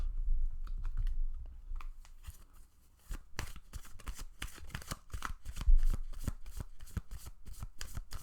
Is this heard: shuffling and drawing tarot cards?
yes